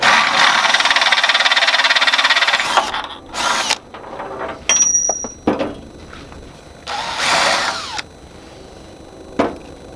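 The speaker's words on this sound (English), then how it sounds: "A little bigger drill bit will let the tap go in easier." A power drill with a drill bit whines at high speed for a few seconds on a Ford tractor's Bradco loader, then stops and restarts in several shorter bursts, close up with clanks between runs.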